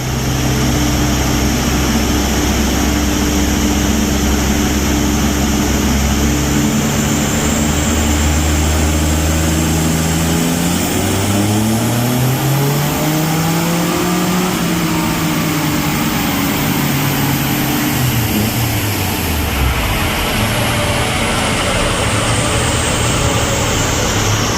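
A tuned Suzuki Cappuccino engine roars steadily on a dyno, pitch climbing in long sweeping revs and dropping back, loud and close throughout with a constant harsh drone.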